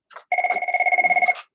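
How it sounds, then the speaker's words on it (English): Telephone ringing in a classroom, one loud close electronic ring burst with rapid warbling pulses lasting about a second, no talking. "Uh-oh, phone call, hold on."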